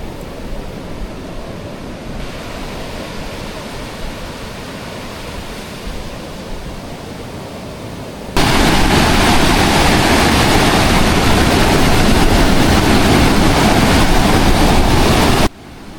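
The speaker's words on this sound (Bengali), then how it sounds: "এই যে সমুদ্রের গর্জন, ঢেউ আছড়ে পড়ার কঠিন শব্দ" Roaring sea waves crash onto the shore at night in a dense, continuous wash of noise. The roar swells much louder partway through and holds steady before cutting back.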